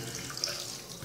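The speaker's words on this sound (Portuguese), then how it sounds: "Depois você vai retirar ele com água." Tap water runs steadily while a doll's hair is rinsed, a brief, soft, continuous splashing stream with no talking.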